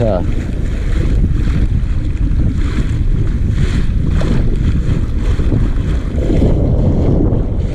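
Wind-whipped waves slap and wash around a kayak on open channel water, with the current running against the wind, under steady loud wind noise buffeting the microphone throughout.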